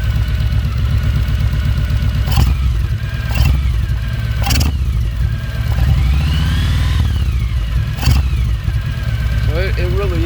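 Kawasaki Vaquero motorcycle with a Big Air Kit idling nearby, a steady, fairly loud low engine rumble running throughout with a few sharp clicks and someone talking over it.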